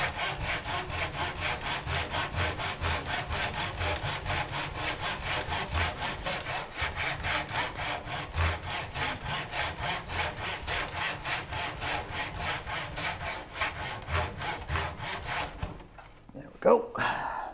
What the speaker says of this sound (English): Then again, I'm not sawing through that big of a material.